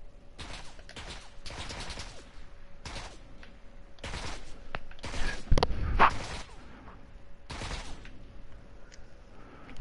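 Gunfire in PUBG on PS4 comes in distinct separated bursts, a series of sharp shots spaced irregularly, louder and closer around the middle, with quieter gaps of background ambience between volleys.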